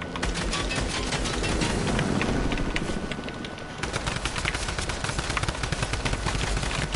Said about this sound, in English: That's Tommy gun.